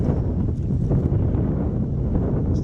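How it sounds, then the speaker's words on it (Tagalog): Steady wind roars and buffets against the microphone, a loud low rumble that continues throughout without pause. "Hangin dito"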